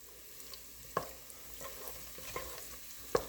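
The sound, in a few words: stirring sofrito in a cooking pot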